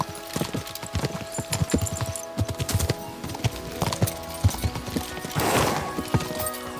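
Horse hooves clip-clopping in the video game Kingdom Come Deliverance II, a quick repeated rhythm of hoofbeats near and moderately loud, with a brief whinny-like swell and faint background sounds.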